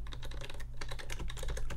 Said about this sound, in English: Here we go with the keyboards again.